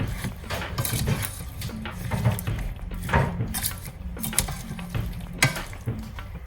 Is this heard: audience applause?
no